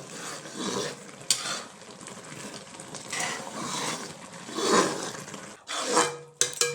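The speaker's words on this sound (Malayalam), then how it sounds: "ഇനിയിപ്പം കൈ എടുക്കാതെ ഇളക്കിക്കൊണ്ടിരിക്കണം കേട്ടോ" Thick, reducing jackfruit preserve stirred in a pan, with wet scraping sweeps and soft sizzling in repeated strokes, close and fairly quiet, and a few sharp utensil knocks near the end.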